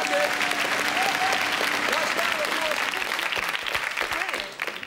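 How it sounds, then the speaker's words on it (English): Studio audience applause at a TV comedy panel show, steady dense clapping throughout, with a presenter's voice and some audience voices over it before it tapers off at the end. "A nice round of applause."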